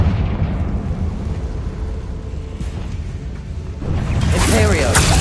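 A Confringo blasting spell explodes in a Harry Potter game, a loud rumbling blast that holds and then swells into a bigger burst near the end, with a voice heard over it.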